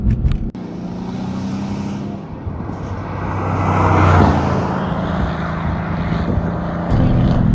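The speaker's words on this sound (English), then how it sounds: "You heard that downshift, just gorgeous. Best sounding engine." Mercedes-AMG C63S coupe, Stage 2 with downpipes running E30, heard while driving: a deep engine note swelling and falling through a downshift, close and loud with no talk.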